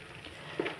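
Butter simmers into ghee with a soft, continuous frying sizzle, faint and steady, with a small bubbling pop near the end.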